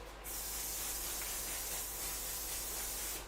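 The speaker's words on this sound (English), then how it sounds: "That's one setting spray" A setting spray mist is sprayed onto a face during a makeup routine, heard as a steady, close, continuous aerosol hiss lasting about three seconds with no talking.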